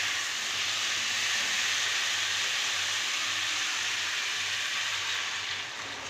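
Water poured onto hot fried masala for a cauliflower and magur fish curry, giving a loud, steady, close sizzling hiss that holds throughout and eases slightly at the end.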